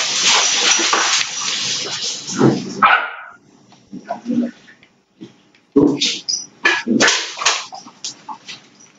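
A dog in a Minecraft game on PS3 barks and whimpers in short bursts, mixed with game sounds and watery noise, with a pause of near silence in the middle.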